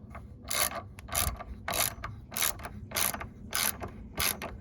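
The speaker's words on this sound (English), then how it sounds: "And now we're going to screw them back in." A ratchet wrench tightens the battery terminals on a Honda Odyssey in a series of about eight quick, close clicking bursts, evenly spaced, with no talking.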